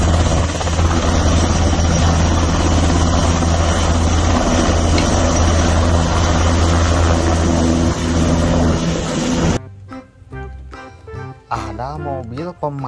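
A military helicopter roars steadily and loudly, its rotor and engine noise filling about nine seconds before a voice starts speaking.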